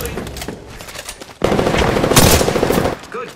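Rapid automatic gunfire from the Apex Legends video game, crackling bursts at first, then a louder dense stream of shots that keeps going before fading out.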